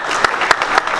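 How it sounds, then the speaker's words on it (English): Audience at a small business event applauding their CEO guest: a steady wash of many hands clapping at once, close and fairly loud, with a few sharper claps standing out. "let's give him one more round of applause for being out here today"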